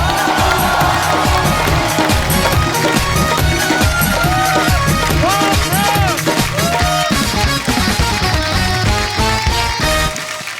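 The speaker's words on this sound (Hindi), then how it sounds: "डॉक्टर साहब के लिए एक बार जोरदार तालियां हो जाए।" Loud studio audience at a comedy talk show clapping and cheering in a dense, continuous wash while music plays over it, fading slightly near the end.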